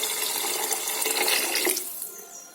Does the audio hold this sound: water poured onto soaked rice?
yes